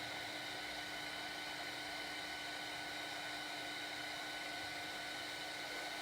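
A heat tool blows steadily under an embossed card, a faint continuous whirring hiss with no breaks.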